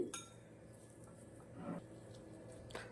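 Boiled potatoes being mashed in a pot for masala bonda, giving faint soft clinks and taps of a utensil against the vessel, with a couple of brief louder knocks amid quiet kitchen background.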